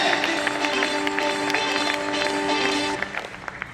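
Audience at a distributor training programme breaks into sustained, dense applause that carries on loudly for about three seconds, then thins out into scattered claps.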